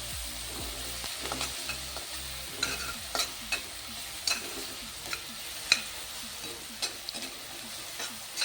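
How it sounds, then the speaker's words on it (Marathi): Crushed green chilli thecha sautés over medium flame, a low sizzle accompanied by a quick, regular series of spoon scrapes and clicks against the pan, close and without speech. "पूर्ण ठेचा आपण टाकून घेतलेला आपण आता त्याला छान परतून घेऊया"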